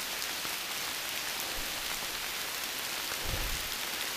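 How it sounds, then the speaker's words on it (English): Steady rain falls on the Appalachian Trail, a dense, even hiss of drops on surfaces close by, with a couple of low thumps and no voices heard. "It's raining all day."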